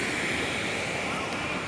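A steady, continuous rush of water from a stream running through a tunnel near Hilo on Hawaii's Big Island, an even broadband roar with no breaks, heard close and alone.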